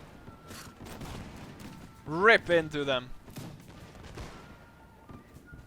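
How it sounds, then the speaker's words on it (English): Musket fire and booming cannon shots fill a Napoleonic battle video game, continuing as a steady background while someone shouts a command over them. "Seeing all those bullets and the cannons going off."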